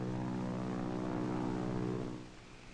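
A propeller airplane drones overhead in an old 1947 adventure film, a steady, loud engine hum with a buzzing harmonic texture that holds evenly, then fades as it passes.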